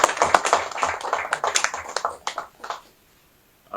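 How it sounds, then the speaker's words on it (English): An audience claps for Aliko Dangote in a dense burst of applause that thins into scattered claps and then fades to silence near the end. "You can clap for him again."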